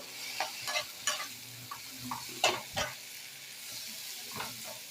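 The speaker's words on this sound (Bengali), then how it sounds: "এই সব মশলাগুলোকে কিন্তু এই বরবটির সঙ্গে ভালো করে ভেজে নেব" Yardlong beans fry with spices in a pan, a soft sizzle under scattered stirring scrapes and light clinks, quiet and close.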